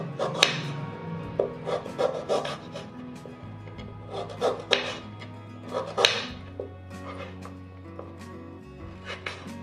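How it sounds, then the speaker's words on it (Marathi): A knife slicing fresh amla (Indian gooseberry) into thin pieces, giving repeated close taps and rubbing cuts against a board in an irregular rhythm, with faint background hum. "आता आवळ्याचे आपण बारीक स्लाइस कापून घेऊ"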